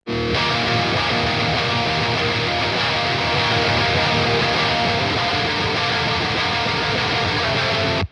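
Thick, distorted electric guitars chug out a steady rhythm part, layered and loud throughout, ending abruptly with no voices.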